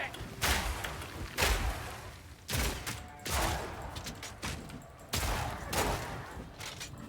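Grenade explosions in Path of Exile 2 go off one after another, about five heavy thumping blasts at a steady pace of roughly one to one and a half seconds, each with a rumbling tail and with no pause between them.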